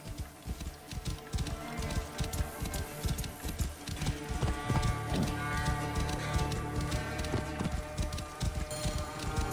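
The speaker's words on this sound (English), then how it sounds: "This must be Mered's horse" Horse hooves clip-clop steadily in the video game Assassin's Creed Origins, a dense run of quick hoof strikes over a constant layer of game ambience and music, with no speech.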